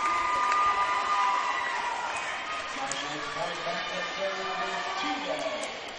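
A packed arena crowd at a junior college volleyball national championship, Glendale against Parkland, mostly Glendale fans, keeps up a steady, loud murmur of chatter and cheering throughout, with announcer-style talk on top.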